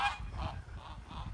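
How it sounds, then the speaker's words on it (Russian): Geese on a village farm give several loud nasal honks in quick succession, close by, with no talk over them. "гуси"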